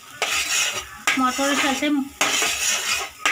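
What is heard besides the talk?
stirring spice masala with peas in pan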